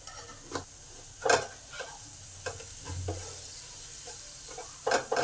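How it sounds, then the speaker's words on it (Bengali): Spices fry in oil for a Bengali rui or katla fish curry, a soft steady sizzle under sharp spoon scrapes and clinks against the pan at irregular intervals, close and fairly quiet, no talking. "এবার এই মশলাগুলো এই তেলেতেই ভালোভাবে কষে নেব।"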